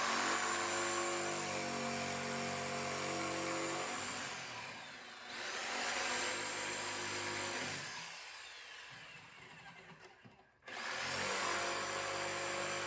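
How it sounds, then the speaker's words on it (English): A small jigsaw saws through wood for a wine storage rack cube, a loud steady buzzing cut that dips briefly, pauses and then resumes close by, with no talking. "I just take a little jigsaw."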